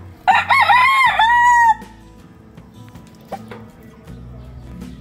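A gamecock being shown by a seller in Rosario, Batangas, gives one loud, close crow lasting about a second and a half, followed by quieter handling noises and background sounds.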